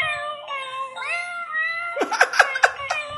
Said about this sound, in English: Q is playing a cat card that somebody gave him